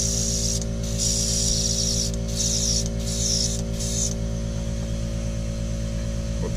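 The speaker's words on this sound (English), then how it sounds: "you're just going to spray out the extra oil" An airbrush spraying out excess oil gives bursts of hissing spray that start and stop several times over a steady compressor hum, then the hum continues alone.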